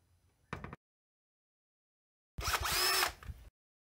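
A power drill bores a pilot hole for a latch in the side of a barn door, with a short blip and then about a second of close, steady drilling.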